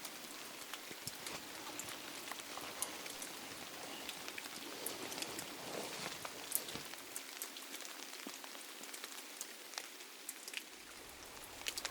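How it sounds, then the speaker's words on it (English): Torrential rain pours steadily during a stag stalking outing in Argyll, a dense, continuous hiss of heavy drops striking nearby surfaces with scattered louder spatters, with no voices present. "it's absolutely bloody torrential and I don't like stalking in the rain"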